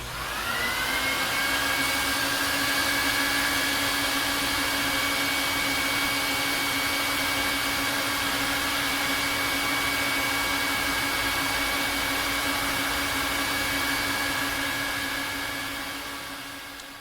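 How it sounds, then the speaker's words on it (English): A vacuum extractor draws cleaning solution through an Oriental rug with a steady, loud, high-pitched whine and airy roar that holds constant for the whole stretch before easing off at the end. "the vacuum from under the rug vacuum everything through the rug"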